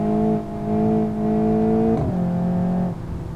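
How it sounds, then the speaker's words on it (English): Sports car exhaust in the game BeamNG.Drive, a sporty all-wheel-drive car, droning steadily with a strong tonal hum that dips briefly near the end and then settles again. "It makes a nice noise from the exhaust."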